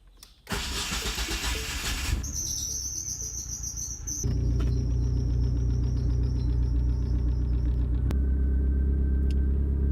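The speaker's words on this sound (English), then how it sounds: "I'm just testing to see if I can get it to start just on its own, no throttle input, and see what happens just pushing the button" AWD Mini Cooper started by push button with no throttle input: a loud burst of cranking gives way to a thin whine, then the engine catches and settles into a steady, close, deep idle.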